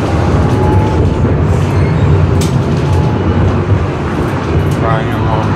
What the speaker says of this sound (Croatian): više me podsjeća na vlak nego na tramvaj.